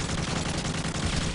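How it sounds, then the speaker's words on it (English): A nine-bang stun grenade in Call of Duty Modern Warfare 3 sets off a rapid, dense string of loud bursts that runs the whole short stretch with little gap, close and harsh. "Nine banger out."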